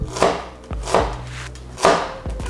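Knife chopping onion on a cutting board for a stuffed-mushroom filling: three sharp, spaced thuds with crisp cutting noise, close and moderately loud, with no talk.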